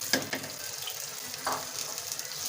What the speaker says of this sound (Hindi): प्याज और दही का पेस्ट डाल लें जो भी ग्राइंड किया था।